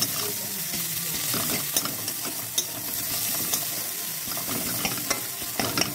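Chopped ginger and garlic fry in a pan with a close, steady sizzle, while spoon taps and stirring clicks sound intermittently throughout.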